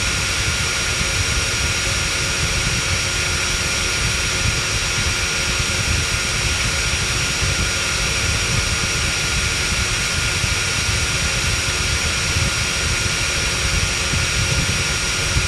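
A Dyson V7 Motorhead cordless vacuum runs with its brush roll spinning, making a steady, loud, unbroken motor whine and roar that holds an even level throughout.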